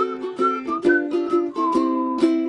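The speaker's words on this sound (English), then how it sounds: "If you want to, you could whistle like..." Someone whistles a 1920s tune as a bouncy melody, with short notes in quick succession and a few held tones, close and fairly loud with no talking.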